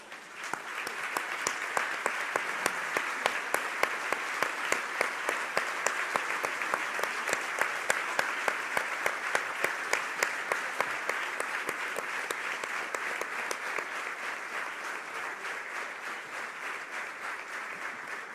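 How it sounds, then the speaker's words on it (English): Members of parliament and ambassadors receive a large crowd's sustained applause at a global leadership forum. The steady wash of clapping runs at an even level throughout and is heard alone, without voices. "We'll give them a big round of applause."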